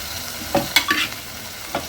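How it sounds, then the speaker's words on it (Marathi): Ragda cooked with onion and tomato goes into an oiled kadhai, giving a low frying hiss with a few scraping and stirring knocks from a spoon against the pan. "इथे मी आता हा रगडा आता कढईत घालते"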